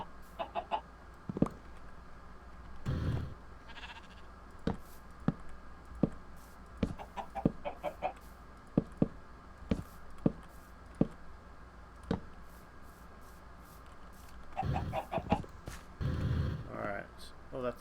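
Chickens clucking in the video game Minecraft, a series of short sharp clucks scattered across the scene over a quiet background, with someone talking intermittently.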